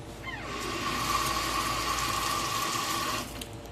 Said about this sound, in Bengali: আর মাছটা একটু জলে ভিজিয়ে রাখি